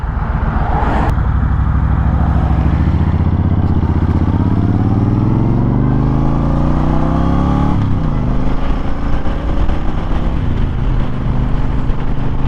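A Honda Fury cruiser motorcycle pulls away and accelerates, its loud nearby engine rising steadily in pitch, dropping as a gear shifts, then climbing again under constant wind rumble.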